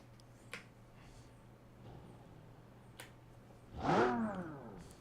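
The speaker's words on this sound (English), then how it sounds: "Now the sound of this car is quite low" Engine of a Baja competition car revving up around the midpoint of the run, a rising throaty roar with a deep, fairly low tone that swells and fades, against quiet outdoor background with a few faint clicks.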